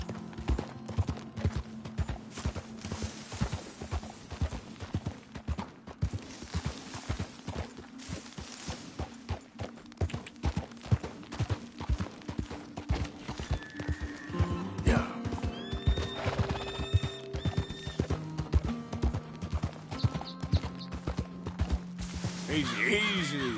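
Horse in Red Dead walks with steady clip-clopping hooves close by and lets out several whinnies midway, with a voice speaking briefly over the hoofbeats.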